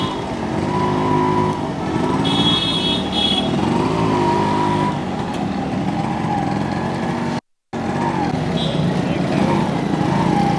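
Yamaha RX 100 motorcycle with full modifications ridden through a crowd, its engine droning steadily and loud throughout with a brief dropout near the end.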